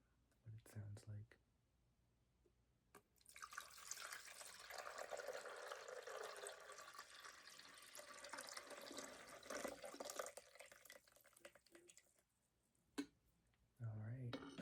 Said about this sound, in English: But let's pour the water in and see what it sounds like.